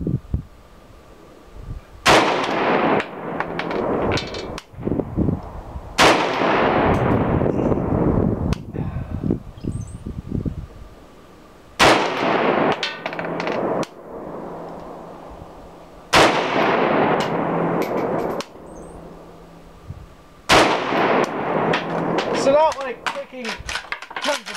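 An RAS-47 rifle fires at a paper target 50 yards away: loud, sharp single shots at irregular intervals, each with a ringing decay, and some talk between them.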